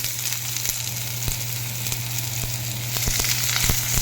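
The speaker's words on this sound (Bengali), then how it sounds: "কড়াইয়ে সাদা তেল নিয়ে একটু পেঁয়াজ কুচি দিয়ে দিলাম" Chopped onion fries in white oil in a wok for a soybean curry, giving a steady close sizzle with occasional sharper pops and crackles over a low constant hum, no speech.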